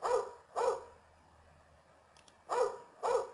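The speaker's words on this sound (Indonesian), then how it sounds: "maka akan muncul suara anjing menggonggong" A dog barks four times, twice in quick succession, then a pause, then two more barks, fairly close and clear with quiet in between.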